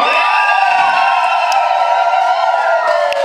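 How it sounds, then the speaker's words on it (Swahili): Wedding guests ululating in church, a loud sustained chorus of high trilling voices blending into one continuous warbling wall of sound. "Amina, vigelegele kwa tafadhali."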